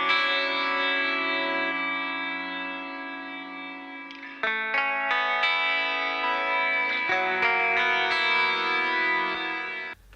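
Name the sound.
octave guitar tracks through Darkglass Alpha Omega Ultra pedal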